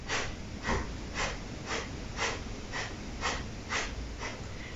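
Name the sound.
bunny breath, exhaling sharply through the nose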